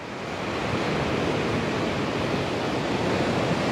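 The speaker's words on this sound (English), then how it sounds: "you're getting a nice little wave coming in" Ocean waves wash onto a sunny, busy beach as a steady, broad roar of surf that swells briefly at the start and then holds evenly loud throughout.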